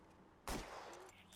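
A single sharp gunshot in the detective game L.A. Noire bursts out loud after a quiet lead-in, then a short ringing tail fades under faint background sound.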